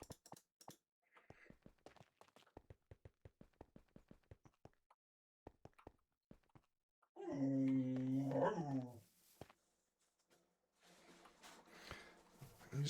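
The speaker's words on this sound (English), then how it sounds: "These dogs wanting to play with each other, so they start making noises and growling." Dogs at play make low growls and grumbling vocal noises, with a burst of louder growling midway among scattered soft clicks and taps in an otherwise quiet space.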